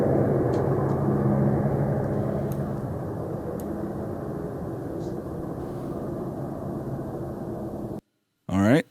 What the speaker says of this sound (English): it sounds like an engine or something outside